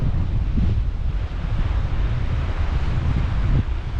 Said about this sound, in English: I think the GoPro might pick up the wind. It's another northerly, northeasterly. Probably a good 20 knots.